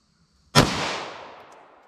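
A 9mm pistol with a 5-inch slide fires a single Federal Punch round: one sharp, loud crack that rings out in a long, fading reverberant tail, with no talk.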